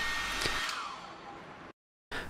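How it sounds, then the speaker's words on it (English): A hair dryer heating an iPhone 8 Plus display blows with a steady whooshing whir, cuts out abruptly, then starts up again. "Take a hairdryer and heat display surface for 1 or 2 minutes."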